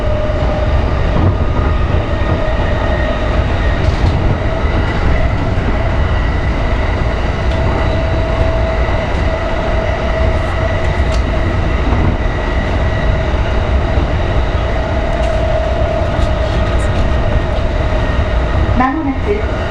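A JR Tokaido Line train runs between Chigasaki and Tsujido on the first service after Typhoon 19, with a steady loud rumble and rail noise throughout, a sustained tonal hum, and a brief burst of higher screech near the end.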